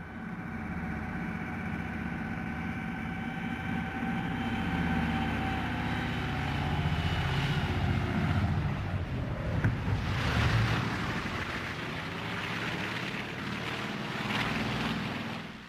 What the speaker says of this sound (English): The Caribou takes off on its third trip to Thule.